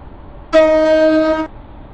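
A train in the Stepford County Railway game sounds a single steady horn blast as it approaches Elsinore Junction, a loud, clear tone lasting about a second and heard alone.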